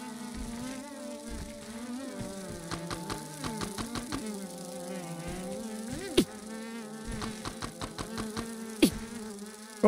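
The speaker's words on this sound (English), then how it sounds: "That crazy buzzing noise drives you insane." Gnats in the video game Grounded drone with a constant wavering insect buzz that rises and falls in pitch, loud and close, with a few sharp clicks and thuds of game action.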